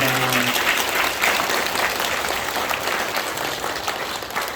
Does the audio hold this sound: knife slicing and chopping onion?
no